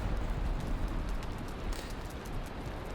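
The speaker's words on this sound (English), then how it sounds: "Raining." Steady rain in the video game Valheim, a dense, even hiss of falling drops with a low rumbling wash underneath, constant and close throughout.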